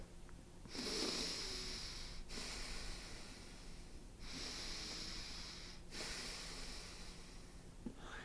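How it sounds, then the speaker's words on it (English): Slow, quiet breaths drawn in through the nose, several long airy inhalations with short pauses between them, close and soft. "start breathing in naturally through your nose like this"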